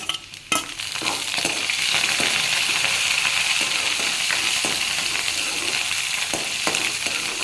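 Curry leaves drop into hot oil with a sharp burst, then a loud, steady sizzle and crackle continues, broken by occasional spoon taps against the pan.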